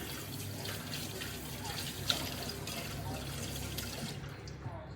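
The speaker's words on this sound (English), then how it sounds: "Now I'm just going to wash my hands." Tap water runs steadily into a sink while hands are washed at a home kitchen sink, a faint continuous splashing with one small clink partway through before the flow stops near the end.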